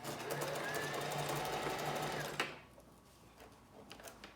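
Sewing machine stitching a Swiss lace closure runs steadily and close for about two and a half seconds, then stops abruptly, leaving faint handling noises.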